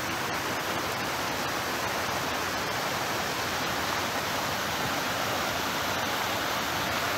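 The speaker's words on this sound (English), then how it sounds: "We've got some waterfall action here." A waterfall rushing in the Colorado wilderness near Winter Park, a steady dense roar of falling water continuing without pause, close and constant.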